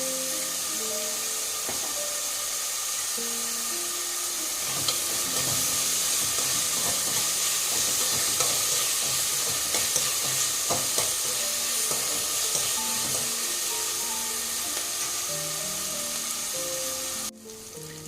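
Sliced onions frying with a little turmeric in a pan for palak dal, a steady close sizzle and hiss running throughout with occasional stirring scrapes, cutting off abruptly near the end.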